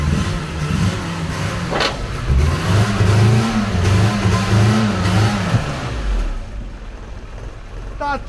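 A car engine idles and then revs up loudly for a few seconds before dropping back down, close by.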